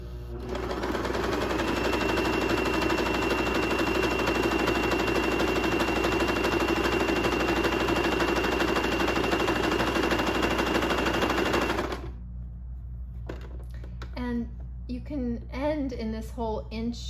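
A sewing machine stitches fabric uppers for slide sandals in a fast, steady, loud whir lasting about twelve seconds, then stops abruptly and a voice begins speaking.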